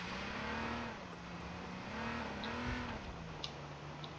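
A car engine hums steadily as the vehicle drives in the H1Z1 King of the Kill video game, its pitch wavering slightly with speed, a continuous moderate drone with no talk over it.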